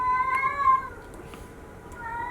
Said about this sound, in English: And there's my cat howling.